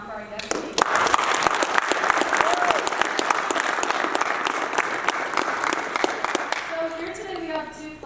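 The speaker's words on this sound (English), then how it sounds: "can we get a round of applause one more time for our guest speaker?" Audience applause for a guest speaker at a Riverside High School assembly, a dense, steady round of clapping lasting several seconds before tapering, with a voice briefly speaking near the end.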